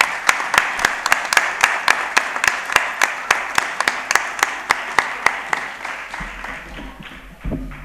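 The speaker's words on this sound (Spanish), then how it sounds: "A la que le damos la bienvenida con un fuerte aplauso." An audience at an adult education centre's end-of-year event gives a sparse, rhythmic round of applause, with distinct individual claps evenly spaced, gradually fading toward the end.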